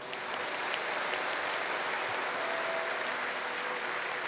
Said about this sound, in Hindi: इन सब के लिए बहुत जोरदार ताली